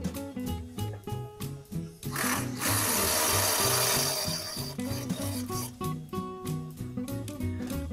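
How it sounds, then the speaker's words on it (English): Ratchet tightening the crank and bottom-bracket sensor on a RAEV GT e-bike at a factory assembly line: quick rhythmic ratcheting clicks, close by, broken by a longer whirring tool burst partway through, with no talking. "now they are installing the crank and the electric sensor on the bottom bracket"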